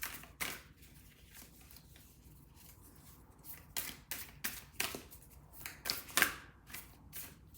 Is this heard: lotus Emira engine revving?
no